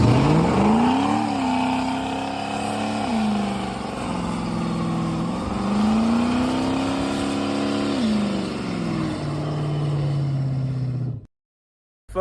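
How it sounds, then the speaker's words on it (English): A muscle car with a 7.3 Godzilla engine roars through a burnout, the engine revving up and down in several loud surges with tire noise before cutting off abruptly near the end. "That might have been the weakest burnout."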